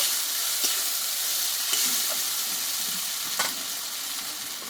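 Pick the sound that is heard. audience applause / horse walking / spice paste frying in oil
spice paste frying in oil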